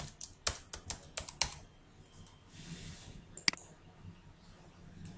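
Computer keyboard keys clack in quick close bursts while a username and password are entered during a Check Point Gaia install, a cluster of sharp taps early, then a pause and one more click.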